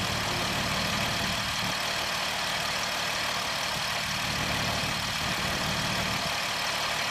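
A 2007 Jeep Wrangler Unlimited X engine idles steadily with a faint grinding undertone, heard up close and alone at low level.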